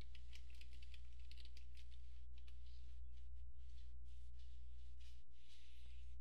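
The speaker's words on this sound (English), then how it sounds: "type the desired name at the keyboard" Quick, light clicking of computer keyboard keys typed in a steady run, faint and close over a constant low electrical hum.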